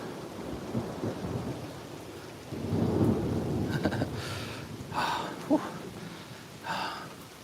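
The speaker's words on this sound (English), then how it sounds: "Oh, it's really raining." Heavy rain pours steadily on an outdoor walk while thunder rumbles and cracks in several loud bursts; a voice briefly gasps or speaks faintly beneath the storm.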